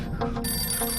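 A telephone rings in a short burst, a bright electronic ringing tone that is close and fairly loud and sounds alone without anyone speaking.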